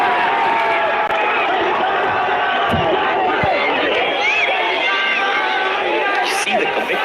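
A crowd of cricket fans cheers and roars at TU ground during Nepal vs West Indies A, a steady loud wash of voices and whistles throughout, with a commentator talking over it.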